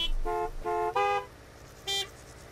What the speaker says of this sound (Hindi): कौन हॉर्न मार रहा है